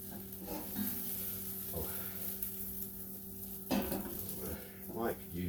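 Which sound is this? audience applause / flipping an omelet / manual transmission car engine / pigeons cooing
flipping an omelet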